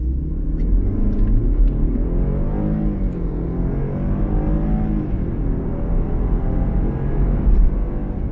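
A Land Rover Defender 110 P300 engine rumbles and climbs steadily in pitch during a hard 0-60 mph run, shifting gears along the way, heard from inside the cabin.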